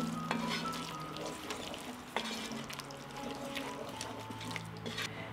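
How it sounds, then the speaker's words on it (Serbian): Vegetables with a full spoonful of ground red Hungarian paprika, salt and pepper stirred in a frying pan, with a steady soft sizzle and scattered scraping clicks of the spoon throughout, close and moderately quiet. "Sve ću to promešati."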